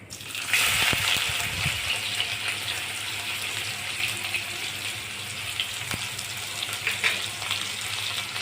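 Onion added to hot oil with browned cumin seeds, a steady hissing sizzle that swells at first and then settles into an even fry, with a few faint clinks nearby.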